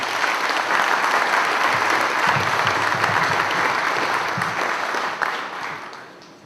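A conference audience claps warmly to welcome a keynote speaker, steady loud applause that holds for several seconds then tapers off and fades at the end.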